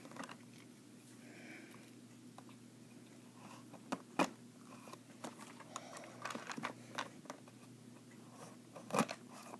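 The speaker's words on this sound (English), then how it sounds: "let's unbox it." A Tomy Plarail Edward toy package is handled and opened close by, with faint crinkling, scattered plastic clicks and a few sharper snaps over a low steady hum, and no speech.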